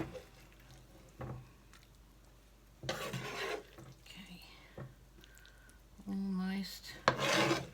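A spoon scrapes a dish while a plant-based breakfast is served, giving a few rasping strokes and knocks at close range between pauses, with soft clatter mixed in.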